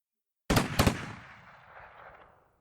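Gunshots in a dramatized reading of a Juan Rulfo story, heard alone as two sharp, loud blasts in quick succession, each trailing off into a long, fading echo.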